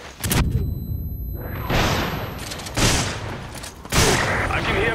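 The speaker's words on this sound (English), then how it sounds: "I can hear gunfire." Loud gunfire in the video game Resident Evil 5 comes in four heavy bursts spaced about a second apart, each a sharp blast with a trailing rumble, and there is no talk over it.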